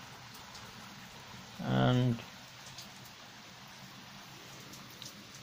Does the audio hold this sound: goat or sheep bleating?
no